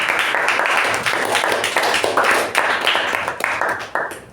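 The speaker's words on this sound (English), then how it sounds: "a good round of applause to Toastmaster Darshan." An audience at a Toastmasters meeting claps for Toastmaster Darshan, a dense, steady round of applause that stays loud throughout and tapers slightly at the end.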